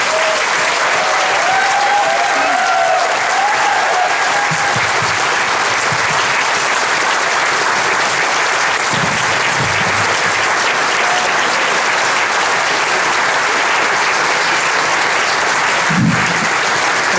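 A large convention audience applauds CIA Director Leon Panetta at the 2010 NAAAP Convention keynote, a dense, loud and sustained wash of clapping that fills the whole stretch with a few scattered shouts.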